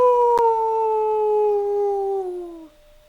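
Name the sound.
howling in the video game Tsukihime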